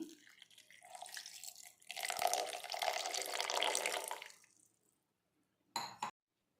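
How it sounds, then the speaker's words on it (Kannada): Water poured into a kitchen grinder jar holding coconut pieces for homemade coconut milk, a steady splashing pour lasting a few seconds, close and clear, ending with a brief final splash. "ಈಗ ಇದಕ್ಕೆ 1/4 ಗ್ಲಾಸಷ್ಟು ನೀರನ್ನ ಮಿಕ್ಸ್ ಮಾಡ್ತಾಯಿದ್ದೀನಿ."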